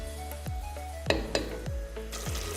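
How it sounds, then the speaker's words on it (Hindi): Potatoes fry in gravy in a pan with a continuous soft sizzle, punctuated by several evenly spaced scraping clinks of a spoon stirring against the metal. "ग्रेवी भूनने के साथ साथ ही हम इसमें आलू डाल देंगे ताकि ये भी इसके साथ ही भून जाए।"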